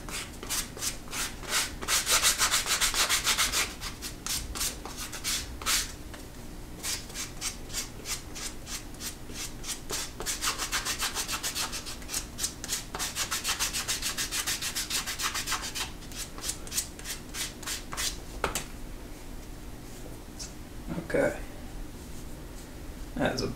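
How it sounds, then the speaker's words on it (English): Sandpaper rubs against a leather card holder in quick, rhythmic back-and-forth strokes, close and crisp, coming in several bursts with short pauses between them. "I'm just gonna sand this."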